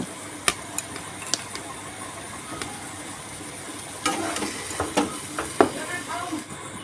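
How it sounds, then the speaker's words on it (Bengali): Pointed gourd pieces stirred in a pan while their water cooks off: a soft continuous sizzle and hiss, broken by sharp spatula taps and scrapes, getting busier toward the end. "আরও একটু নেড়ে চেড়ে জলটাকে ভালোভাবে শুকনো করে নেব"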